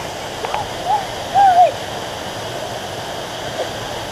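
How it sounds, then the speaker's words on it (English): Steady rushing water from a nearby small waterfall along a hiking trail on the Sheltowee Trace fills the background, with a couple of faint bird chirps briefly rising above it. "Got a little trail right here going to this little waterfall."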